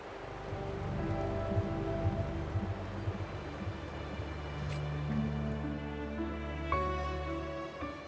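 Continuous rain in the video game Wuthering Waves falls over a low rumbling background with sustained tonal hums, steady and immersive, with no one speaking.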